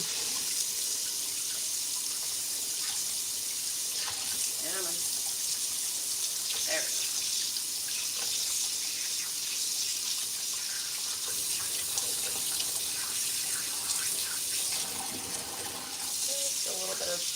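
Hot tap water rinses red buttercream out of a container at a kitchen sink, a steady close gushing flow that runs for a long stretch with occasional splashes and clunks of the container being moved under it.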